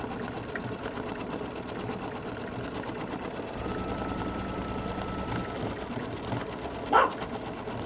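An embroidery sewing machine runs with a quiet, steady mechanical hum while stitching a Christmas ornament design, faint and continuous, with a brief louder bump near the end.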